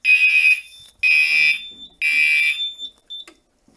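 A Simplex 4010 fire alarm panel sounds its tone in three loud, piercing electronic bursts of about half a second each, spaced evenly and heard up close, followed by a couple of faint clicks.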